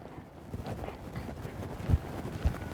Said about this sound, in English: Want that horse to lope off, nice and soft and easy